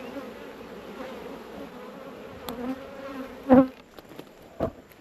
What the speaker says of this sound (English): There's plenty of bees.